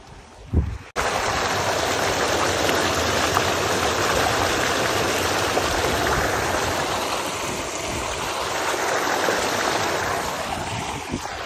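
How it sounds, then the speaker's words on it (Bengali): A small waterfall spills across a mountain road in Assam, giving a loud, constant rushing roar of water close by that holds steady throughout after a brief bump at the start. "এখন একটা আমাদের ঝর্ণা পড়ে গেছে রাস্তার মিডিলে।"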